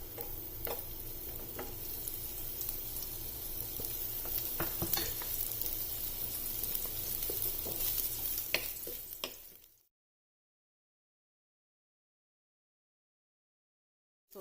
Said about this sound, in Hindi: ऑयल गर्म होने पर इस तरह इसमें ये रिंग्स डाल देनी है, इन्हें सोते कर लेना है।